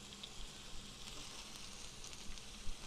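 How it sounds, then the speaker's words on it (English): Steady, faint sizzling of vegetables frying on a hot Blackstone griddle, a continuous crackling hiss with occasional small pops. "you want to hear that sizzle"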